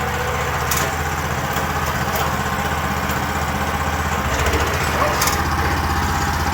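A WEIMA WM900M-3 walk-behind tractor drives away, its small engine chugging in a steady, loud, continuous rumble with brief rattling clicks, close by and alone.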